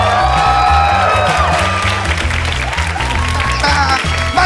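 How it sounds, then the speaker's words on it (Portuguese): The crowd at the Rio Comedy Club stand-up show in Brazil claps loudly, with a few cheers over a pulsing low musical bass line that plays throughout. "Mais palmas para nós!"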